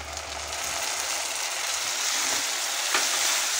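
Onions and soya chunks fry in a pan as green chili sauce goes in, giving a steady, moderately loud hissing sizzle with a faint clink near the end.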